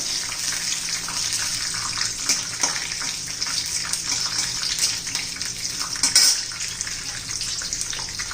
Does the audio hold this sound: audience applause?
no